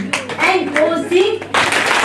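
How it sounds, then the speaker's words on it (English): Seminar audience in a healthcare management hall claps in unison in a short, dense burst near the end, after a voice speaks over a steady low hum. "please clap 3 times"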